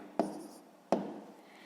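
Pen or pencil writing out a maths calculation on paper, two short scratchy strokes about a second apart, close and quiet, with no talking.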